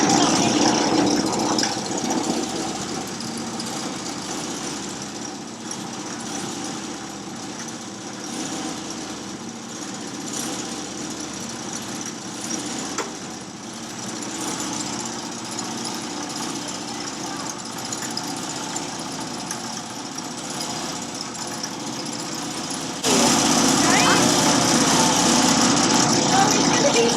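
A spinning wheel spins fleece into yarn with a steady, continuous mechanical whir that grows louder near the end, while people talk over it.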